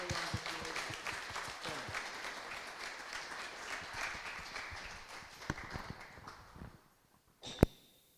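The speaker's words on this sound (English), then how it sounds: "Give a round of applause." Audience applause at a Black History Exhibition awards ceremony, steady dense clapping for about seven seconds before tapering off, then a few sharp isolated claps near the end.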